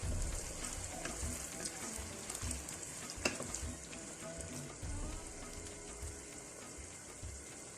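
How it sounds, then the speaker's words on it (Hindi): Potatoes fry with onions in a pot while a red lentil soup is being made, giving a steady, loud, continuous sizzle with faint stirring and no talking. "अब मैं सिर्फ 2-3 मिनट के लिए आलू को फ्राई करूँगी इसके अंदर"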